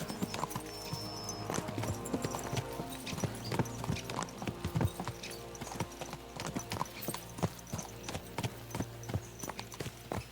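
Horse hooves clip-clop steadily while riding in the medieval open-world game Kingdom Come: Deliverance II, a quick, even rhythm of hoofbeats over continuous game ambience and music, with no talk.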